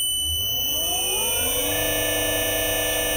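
An electric motor on a ZW-CT1 VFD inverter ramps up toward 50 Hz, a loud whining tone that rises steadily in pitch over about two seconds and then holds at a constant high hum alongside a faint electronic buzz.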